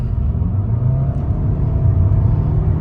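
Steady engine rumble and intake drone from a car with the front intake baffle installed, held loud and close throughout with no talk over it.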